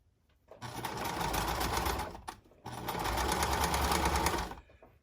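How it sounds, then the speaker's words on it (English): Sewing machine stitching the curved neck seam of a turtle plushie in two continuous bursts of rapid needle chatter with a short pause between, close and fairly loud. "I'm going to sew"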